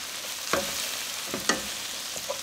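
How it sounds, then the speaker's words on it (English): A hand masher works through cooked cauliflower in a pot, giving a few soft, wet squelching presses at uneven intervals, close by and fairly quiet over a low background hiss. "I just have one of these mashers, and it helps a lot just to start mashing it and making the mashed potatoes."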